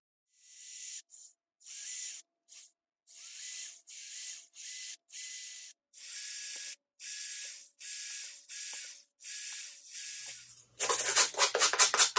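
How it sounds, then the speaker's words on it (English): Short bursts of a whirring power drill, about a dozen in a row with brief pauses between, followed by a louder rattling, clattering noise at the end. "I need to drill some holes"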